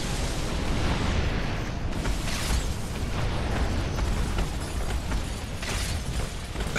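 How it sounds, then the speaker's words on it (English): Mortar fire in the Earth Defence Force: Insect Armageddon video game makes a continuous rumbling barrage of booms and bursts, dense and loud throughout with no pauses and no talk. "It sounds really good when that's going off. Yeah, that's a mortar."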